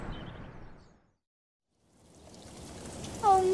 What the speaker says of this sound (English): Oh, no. Now it's raining.